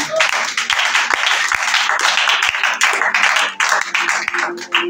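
A church congregation at a Sunday sermon breaks into loud, sustained applause to acclaim the Lord, dense clapping with sharp individual claps standing out, close and continuous throughout.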